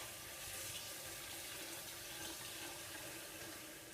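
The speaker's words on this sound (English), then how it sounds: "I start running water over it" Tap water runs in a steady, even hiss over raw chicken in a kitchen sink. It stays continuous and fairly soft throughout, with no speech.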